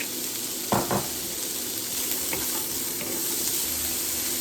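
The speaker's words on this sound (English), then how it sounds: "Now we're going to add in the carrots because they take the longest to cook" Carrots dropped into garlic and onions frying in a pan: a couple of quick clattering thuds over a steady close sizzle, then quiet frying with faint stirring, no voices.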